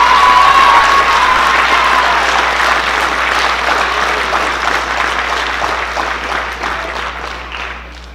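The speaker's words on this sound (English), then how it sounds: "Please hold your applause." An audience at a school awards ceremony for a speech night applauds loudly, with dense clapping and a few cheers that fade slowly toward the end.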